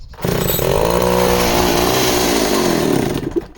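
A chainsaw engine catches and buzzes loudly for about three seconds in a rough, steady snarl, then dies out, with no talk during the run.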